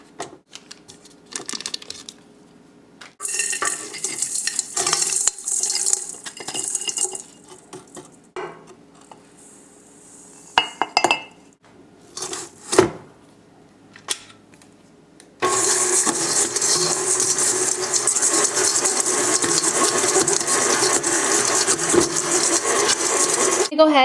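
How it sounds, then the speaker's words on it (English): Butter and sugar being creamed together for chocolate chip cookie dough: bursts of electric mixer whirring and scraping, then a steady loud, continuous mixer drone through the final stretch, with no talking. "next we are going to cream our butter and sugar together."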